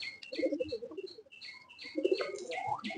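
Afsan pigeons in a pigeon loft coo and chirp almost nonstop, their calls overlapping at close range, with low throaty cooing beneath brighter chirps.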